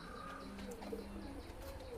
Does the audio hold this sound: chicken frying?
no